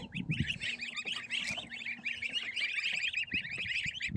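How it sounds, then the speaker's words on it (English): Busy chatter of geese and chickens of various ages in a yard, honking and clucking calls overlapping steadily throughout, fairly close with no talking. "Some geese and chickens in various ages."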